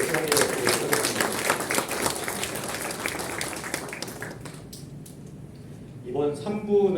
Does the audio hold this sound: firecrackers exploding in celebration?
no